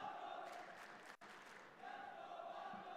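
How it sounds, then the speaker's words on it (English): Crowd at an esports event for Call of Duty Warzone on Boulevard Riyadh City, a steady broad roar of cheering voices from a large audience, held at constant loudness with one brief dropout midway. "And you can hear the crowd"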